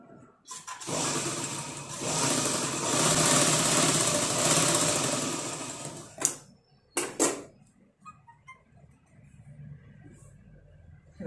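Sewing machine stitching one side of a blouse neck strip, a continuous close motor whir for several seconds, then stops, followed by a couple of short mechanical clicks and bursts.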